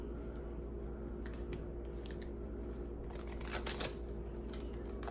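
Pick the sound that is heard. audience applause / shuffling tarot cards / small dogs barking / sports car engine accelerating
shuffling tarot cards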